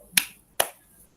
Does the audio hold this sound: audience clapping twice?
yes